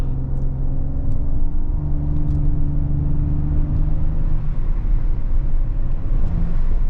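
A 2025 Audi S7 Sportback luxury sedan drives through town, its engine and road noise a steady, low, close rumble from inside the cabin, with faint clicks and no talking.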